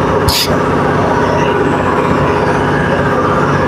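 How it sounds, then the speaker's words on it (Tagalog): A ship's engine roars loudly and continuously at close range, a dense, unbroken mechanical drone with a low rumble and no pauses. "Ito yung barko na sobrang ingay talaga ng makina na na-encounter ko."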